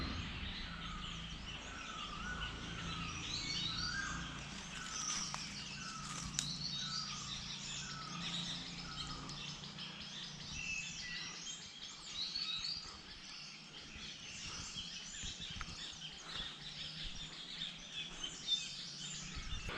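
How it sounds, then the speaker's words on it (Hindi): Birds sing and chirp steadily in the rural Himalayan hills near Dharamshala, with many small high calls layered over a soft outdoor background for the whole stretch. "तो भाई आप सुनो पक्षियों की आवाज़ें।"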